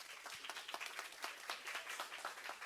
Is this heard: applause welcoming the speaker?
yes